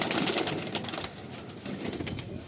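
Chennai Regdar antique pigeons in a loft cooing in soft repeated throaty calls, fairly close, over a busy background hiss that thins out partway through.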